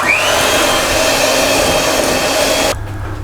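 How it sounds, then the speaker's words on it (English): An electric hand whisk whirs steadily through a shortbread mixture being beaten until light and fluffy, a loud continuous motor hum that cuts off abruptly near the end. "I want to take an electric hand whisk."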